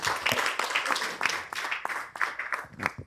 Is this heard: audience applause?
yes